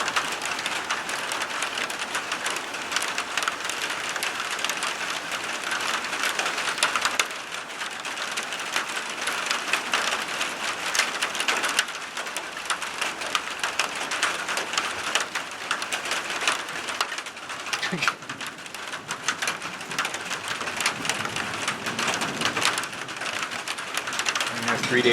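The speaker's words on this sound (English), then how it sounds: "3 days of rain now." Rain falls steadily on a cruising boat during a summer storm, a dense, even hiss that continues without a break at a constant level.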